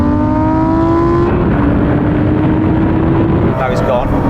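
A Lamborghini Performante and rival cars accelerate hard in a rolling drag race from 50 mph in automatic mode, a loud sustained engine roar with rising whining tones that shift as gears change, with talk over it.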